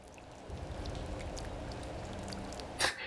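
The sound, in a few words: rain falling in video game OMORI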